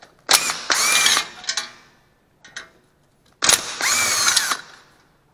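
A power drill backs out the screws of the exhaust shield on a Honda GXV160 engine in two loud, close bursts, each a short rev and then a sustained whine, with faint ratcheting clicks between them.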